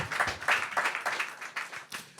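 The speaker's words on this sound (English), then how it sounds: "Clap it up one more time for Carrie" A comedy show audience applauds a comedian, with scattered hand clapping rising and falling in uneven waves through the short stretch.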